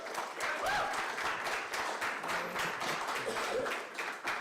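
Debate audience in Edmond, Oklahoma claps steadily throughout, a dense, even patter of many hands at moderate distance with no talk over it.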